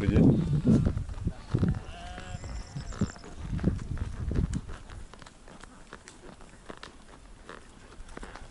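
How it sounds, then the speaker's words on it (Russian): A flock of rams bleats along a trail during a horseback ride, several rough bleats in the first half fading to quiet, with faint hoof steps beneath. "Встретили стадо баранов."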